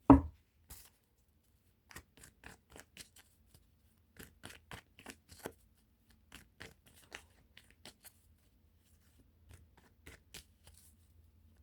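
A deck of tarot cards is shuffled off to the side, producing faint, scattered papery clicks and flutters in irregular bursts against near silence.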